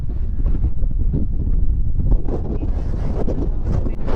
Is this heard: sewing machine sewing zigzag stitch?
no